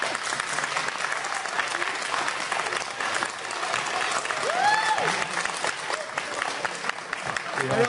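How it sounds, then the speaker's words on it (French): Sustained audience applause at a bilingual Code Lyoko fan conference, a dense wash of many hands clapping that holds steady for several seconds, with a short whistle and a few voices mixed in partway through. "ça vous fait quoi d'être applaudi là après ça?"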